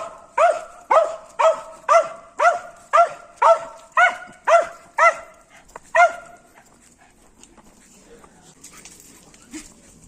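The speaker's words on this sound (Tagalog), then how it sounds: "Maingay itong aso ko." A dog barks about a dozen times in a steady, evenly spaced run, loud and close, during an outdoor walk with the dogs on a Labor Day holiday, then falls quiet with faint background noise.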